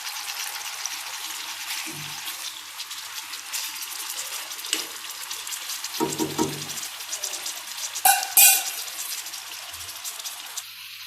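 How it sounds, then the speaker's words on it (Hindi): Chicken frying in oil on a tawa griddle over a low flame, a steady soft sizzle throughout with a few quiet clinks of utensils and one brief louder clatter near the end. "अब जब तक मेरा ये चिकन फ्राई होता है"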